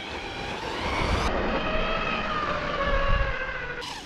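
A Traxxas Hoss RC truck drives at speed, its electric motor giving a steady high whine that rises and falls as it passes, loud and close with no talk.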